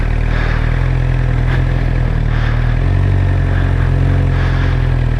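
Suzuki GSXR 600 motorcycle pulling away slowly as the clutch is released, a steady close engine drone with a low rumble and mild shifts in pitch.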